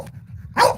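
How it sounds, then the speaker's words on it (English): A dog lets out a single loud, close bark at the very end, following a stretch of quiet low rumble. "here we go with the barking"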